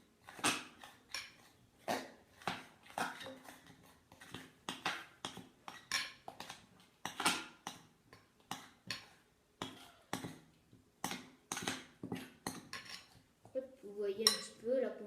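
Homemade chewing gum mixture with gluten is stirred in a bowl, a utensil scraping and clinking against the sides in a steady run of repeated strokes, close and fairly loud, with no talking.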